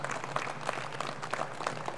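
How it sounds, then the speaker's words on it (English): Applause rises for agro-processors from Tobago at a political manifesto launch. The steady clapping sounds moderately distant and fairly quiet, with a few sharper claps. "I think they deserve a round of applause"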